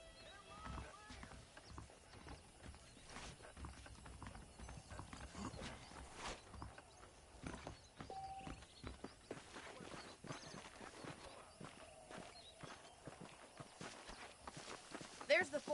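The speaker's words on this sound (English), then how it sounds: "The horses are saddled up over here." Horses walking in Red Dead Redemption, soft irregular hoof clip-clops with faint tack and mechanical clicks, quiet and mixed under a man's speech.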